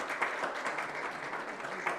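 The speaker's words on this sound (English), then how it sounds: "a big round of applause, please" A conference audience at a keynote gives a steady, moderate round of applause, a dense wash of clapping that holds evenly throughout at a middling distance.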